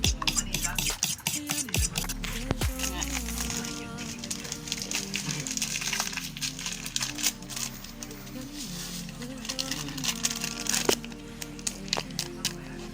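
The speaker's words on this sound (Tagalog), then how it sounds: "Ito nang mix ug mayo mga amigo ang itlog." Eggs being mixed with a utensil in a bowl while making a banana snack, giving steady scraping and clinking strokes throughout, close and fairly loud, with a voice talking over it.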